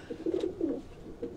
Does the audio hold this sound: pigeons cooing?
yes